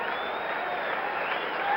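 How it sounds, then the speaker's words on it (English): Steady applause from a large crowd at a 1977 World Series baseball game between the Yankees and Dodgers, a distant, even roar of clapping under the stadium ambience. "Now the crowd starting to build its applause."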